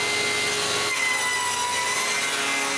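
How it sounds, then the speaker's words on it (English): Mortise cheeks being cut into wood with a saw guided by an adjustable jig, a steady close rasping stroke running without pause and with no talk. "When it's adjusted, I can cut the mortises, starting with both interior cheeks,"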